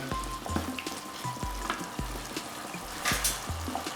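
Chicken sizzles in a frying pan with sweet chili sauce while a utensil stirs it in an even rhythm of thuds about every half second, over a continuous frying hiss.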